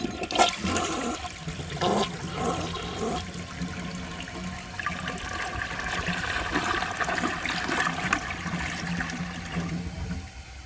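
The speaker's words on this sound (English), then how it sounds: "So I'll show you guys a flush" A 1981 Kilgore Apex toilet flushing, its water rushing and gurgling loudly and steadily for about ten seconds close by, with no speech over it.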